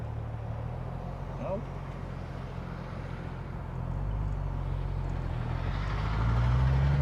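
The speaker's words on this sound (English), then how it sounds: "Wait for this lovely traffic to go by." Road traffic passing near Sarasota Airport, a low rumble of engines that swells as vehicles approach and grows louder toward the end, with nobody talking.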